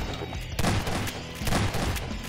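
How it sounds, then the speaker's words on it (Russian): Gunfire in the Garry's Mod horror map Hell's Prison rattles in rapid, overlapping bursts of shots, fairly dense and continuous over a short stretch. "Да не стреляй по ним вообще."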